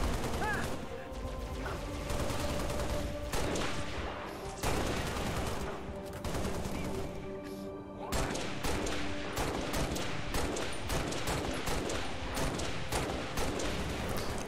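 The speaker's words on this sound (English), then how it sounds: "I thought we were being shot at by hunters, but no. Must be some guy with a plasma cannon or something." Dense, sustained plasma cannon gunfire in Halo: Reach, a rapid barrage of loud blasts and impacts running nearly continuously, with a brief lull around the middle before the shooting resumes just as heavily.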